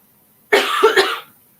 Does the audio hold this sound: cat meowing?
no